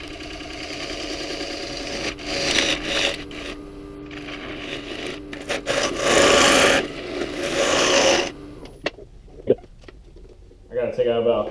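Moldy maple is rough-turned on a wood lathe, the tool scraping and rasping through the wood in uneven, shifting passes that rise and fall, with a voice talking over the cutting.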